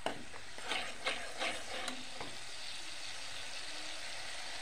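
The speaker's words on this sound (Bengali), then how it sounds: "টমেটো সস দিয়ে দেবো, দিয়ে একটু নাড়াচাড়া করবো।" Chicken chili rice with tomato sauce being stirred in a pan, with a steady sizzle throughout and a few scraping strokes near the start, no voices.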